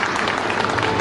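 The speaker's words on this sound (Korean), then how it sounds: "큰 박수 부탁드리겠습니다" Audience applause at a presentation event in Jeju, a dense, steady wash of clapping from a sizable crowd filling the whole second at even loudness.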